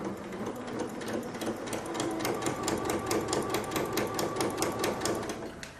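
A Janome MC15000 embroidery and sewing machine stitching fabric for a mug rug, its needle hammering in a fast, steady, even rhythm that runs unbroken and fairly loud throughout.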